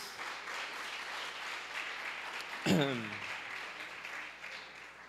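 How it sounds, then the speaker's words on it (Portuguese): Church congregation at a deliverance service applauding, a soft, steady wash of clapping with a loud voice cutting in briefly near the middle over the crowd. "dê um forte aplauso ao Rei Jesus"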